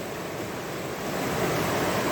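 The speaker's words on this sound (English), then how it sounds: "I'm going to tip off my water." Water tipped off a gold prospecting pan pours out in a steady, broad rushing splash that stays loud throughout and swells slightly toward the end.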